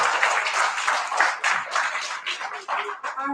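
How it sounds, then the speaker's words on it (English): A crowd at a school poetry slam applauds a 5th grade team, a short burst of lively clapping with cheers mixed in, fading as a voice begins near the end. "Give them a round of applause"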